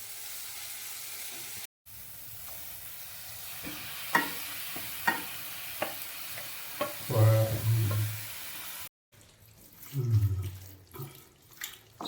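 Chicken liver and offal masala is stirred in a pan with a series of sharp spoon taps and scrapes over a low sizzle, followed by louder wet stirring and brief breaks in the sound.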